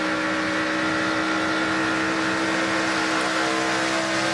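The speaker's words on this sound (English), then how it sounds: "And you're right, the engine sounds good." Race truck engine from a 2014 NASCAR truck race holding a steady loud drone with strong harmonic bands, continuous and even throughout, no voices.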